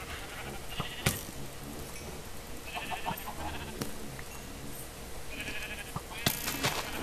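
Sheep in a Minecraft-style game bleat in several short calls spread across the stretch, over a low game background, with a person talking now and then.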